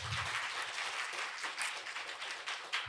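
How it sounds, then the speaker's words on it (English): Conference audience applauding Professor Lev Manovich at a digital humanities symposium, a short steady burst of fairly quiet, distant clapping. "Once again, please give Professor Lev Manovich a big round of applause."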